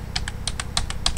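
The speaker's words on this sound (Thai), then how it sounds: "เห็นได้เสียงกดคีย์บอร์ดแคกๆๆ" Computer keyboard keys clack in a quick, even run of about eight sharp taps, close and clear over a low background hum.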